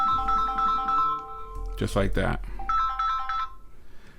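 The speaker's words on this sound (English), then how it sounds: "and it's ringing." An outgoing call rings on an Amazfit GTR 4 smartwatch, a repeating electronic ring tone in short bursts, interrupted midway by a person speaking briefly close by.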